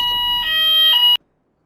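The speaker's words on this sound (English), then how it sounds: "That was, by the way, the fire alarm in my place here that I'm staying in." A home fire alarm blares a loud, steady electronic tone in two pulses that then cut off abruptly into silence.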